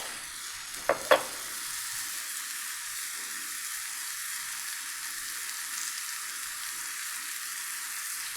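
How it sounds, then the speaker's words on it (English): Mushrooms sauté in a hot pan as they are stirred, a steady close sizzle running throughout, with two sharp spatula knocks against the pan near the start. "Stir them around, just get them cooking a little bit."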